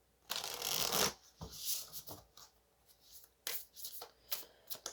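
Tarot cards are shuffled by hand in quick, close riffling bursts, one long flurry followed by several shorter soft shuffles and taps, quiet overall with no speech.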